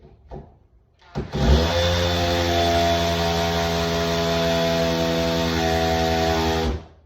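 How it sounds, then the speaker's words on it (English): A power drill whirs loudly and steadily for several seconds under load, starting abruptly and cutting off at the end. "Don't forget to clear the flute of the drill by pulling it out and putting it back in."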